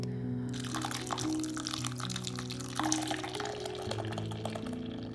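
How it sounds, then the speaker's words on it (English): Water and flax seeds are poured into a pot, a close, steady liquid pour with faint drips, heard under soft background music. "I just put 1/4 cup of flax seeds with 2 cups of water into a pot."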